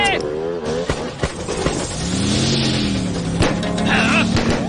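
A cartoon scooter engine revs with a rising, buzzing drone under music and animated voices, building steadily in the middle and holding to the end.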